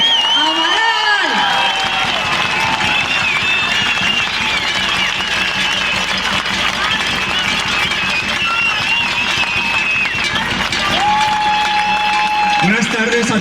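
Loud, sustained applause and cheering from a large outdoor crowd at a rally in Zaragoza, Aragón, with shouts rising over steady clapping throughout.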